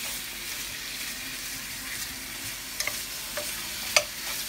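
Louisiana sausages, regular and hot mix, sizzle steadily as they sauté in a pan, with a few soft stirring scrapes and clicks of the utensil toward the end, close and moderately quiet with no talking.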